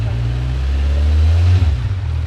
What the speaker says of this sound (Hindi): ये स्टार्ट हो गई है बाइक और आप हल्का सा थ्रॉटल देके देखिए।